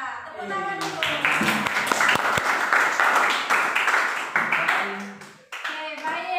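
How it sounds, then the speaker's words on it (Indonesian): A school class claps hands together, a dense burst of applause lasting several seconds that fades out briefly and then resumes, with an adult and children talking over it. "Kita tepuk tangan dulu."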